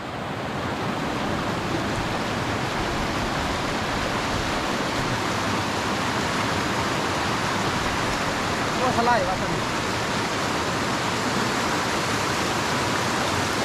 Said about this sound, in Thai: เดี๋ยวน้ำตกสองปอลาว